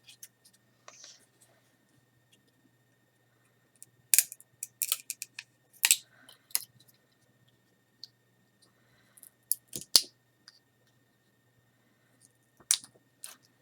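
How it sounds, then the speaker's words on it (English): Scissors snip through pieces of drinking straw in quiet surroundings, with several separate bursts of short crisp cuts and clicks spread out over time. Soft, sparse speech comes between them. "every time we have a bone, we are going to cut a piece of straw"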